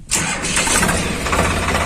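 A tractor engine for laser land levelling cranks and catches suddenly, then settles into a loud, rough, steady running rumble close by.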